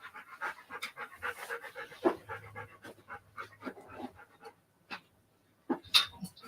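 A dog panting close by, quick rhythmic breaths that run for several seconds, then pause, with a soft whimper and a few faint scratching sounds.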